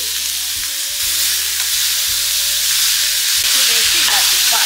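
Boiled jackfruit husk is tipped into hot oil tempered with asafoetida and curry leaves and stirred, giving a loud, bright sizzle with scraping spoon strokes, close by and with no talk.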